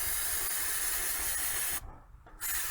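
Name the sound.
spraying Nut Buster penetrating oil on strut bolts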